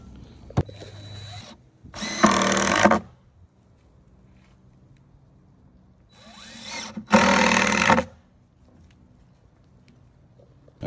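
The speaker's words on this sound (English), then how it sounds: "let's go ahead and screw it in" A power drill drives 1 5/8 deck screws into a composite trench panel in two loud, close whirring bursts of about a second each, separated by quiet handling sounds.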